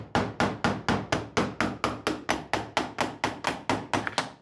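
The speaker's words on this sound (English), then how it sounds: "take a duct slitting tool, which is basically like a flathead screwdriver and a hammer, in order to go ahead and make our first hole" A hammer strikes a flathead-style duct slitting tool into a small loose piece of sheet metal in a steady rhythm, about sixteen sharp, close metallic blows evenly spaced.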